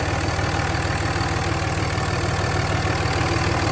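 A 2003 Dodge Ram 2500 Cummins diesel engine with a cold air intake idles steadily up close, a constant low rumble with a regular mechanical knock and no voices.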